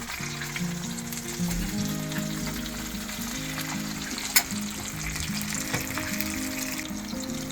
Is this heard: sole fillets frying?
yes